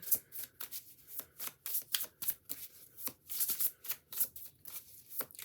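A deck of cards is shuffled repeatedly for a tarot-style card reading, making rapid papery riffles and flutters in a steady rhythm of bursts, close and fairly soft, with no talking.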